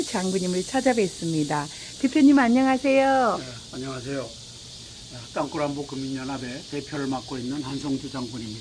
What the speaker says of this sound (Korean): 오늘도 매미 소리 들리는 이곳 야외로